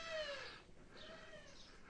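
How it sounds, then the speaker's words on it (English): A single noisy bird calls outside a hillside villa in Spain, a bright, slightly harsh chirping call at moderate distance, repeated in short bursts across the moment with no talking. "Noisy bird."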